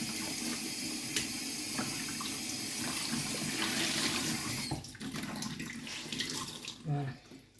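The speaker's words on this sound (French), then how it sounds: "Et puis on va changer d'eau." Tap water runs steadily into a kitchen sink to change the water for soaking pink radishes, a close, broad rushing stream that cuts off near five seconds, followed by softer splashes and handling noises with a brief voice.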